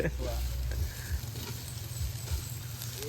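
Ham and chorizo sizzle steadily in plenty of oil, a continuous close frying hiss with small pops and stirring scrapes, and no voices over it.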